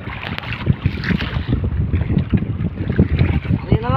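Strong wind buffets the open water during a fishing trip, a steady roaring rush with gusty microphone thumps and splashing, a voice speaking briefly over it.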